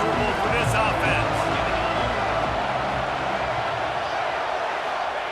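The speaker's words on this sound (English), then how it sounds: "This crowd trying to make life miserable for this offense." Broad wash of stadium crowd noise in College Football 26, a constant roar that makes life hard for the offense, heard under a commentator's continuous play-by-play.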